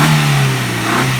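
A Maruti Ciaz engine with a valvetronic exhaust cutout revs hard and steadily close by, producing a loud, continuous engine roar with a strong low exhaust drone throughout.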